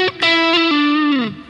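A thick, distorted electric guitar lead tone through an Orange OR80 amp model in a Helix processor: a single sustained note slides down at the end, loud and alone.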